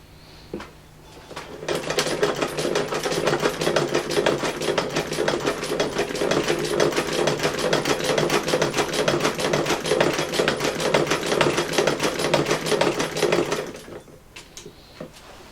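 A Singer 29K15 sewing machine runs a fast, steady stitch with thin thread, its rapid even mechanical chatter loud and close for about twelve seconds before stopping.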